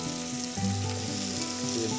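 Onions and tomatoes sizzle steadily in a hot frying pan, a continuous bright crackle with a few soft stirring knocks, close and fairly loud with no talking.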